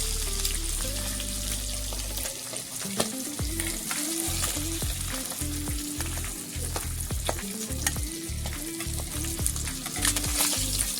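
Silver carp belly pieces crackle and sizzle in hot oil as they are lifted out one by one, a continuous frying hiss with light clicks and scrapes, under background music.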